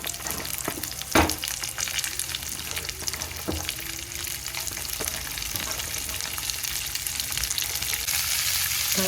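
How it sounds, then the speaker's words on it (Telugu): Okra pieces fry in a pan on low heat, giving a continuous hissing sizzle that builds slightly over the clip, with a few sharp clinks of a utensil early on and no talking. "సిమ్ చేసుకొని చక్కగా వేగనివ్వాలండి."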